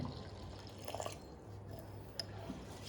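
Faint sloshing and light dripping of water in a steady rhythm as rice is washed, with a few soft splashes and no talking.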